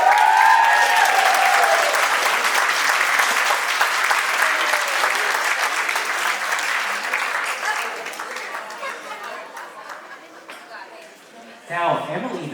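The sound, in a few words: wedding guests applauding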